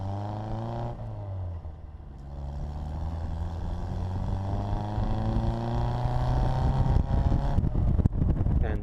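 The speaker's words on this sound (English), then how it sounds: "This car revs really nicely and it sounds wonderful" The engine of a 1959 five-speed Bugeye Sprite revs and climbs steadily in pitch while driving, a loud, smooth rising drone with harmonics, briefly dipping before pulling up again.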